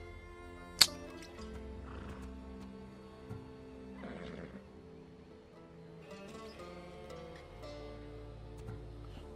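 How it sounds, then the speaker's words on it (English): Horse in the video game Assassin's Creed Odyssey: Fate of Atlantis, set in Elysium, gives a sharp whinny near the start, then softer snorts and faint hoof sounds over a steady low game music bed. "The horse is going to Adonis."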